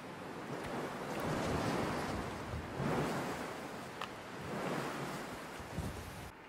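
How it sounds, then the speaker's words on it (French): Rising wind in The Long Dark, a steady rushing howl that swells and ebbs in broad gusts, loud and close, with no other sounds. "il y a le vent qui est en train de se lever"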